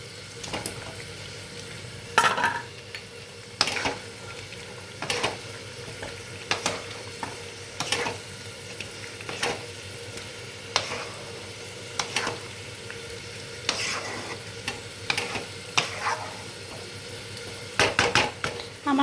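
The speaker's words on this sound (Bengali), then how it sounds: "এবার বন্ধুরা আমি আমার বয়েল করা আলুগুলো সব দিয়ে দিই" Boiled potatoes tossed into a frying pan for veg pulao with alur dum, with scraping spatula strokes and clinks of metal against the pan over a low sizzle, repeated every second or two.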